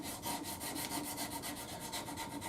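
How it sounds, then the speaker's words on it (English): Rhythmic back-and-forth scraping of sandpaper on a wooden bass guitar body, steady strokes repeating close up with no voices. "I've always said sanding's very zen"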